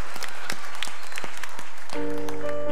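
Congregation in a church sermon service clapping in praise: sharp, loud, evenly spaced claps at a steady beat, then a sustained organ-like tone enters near the end.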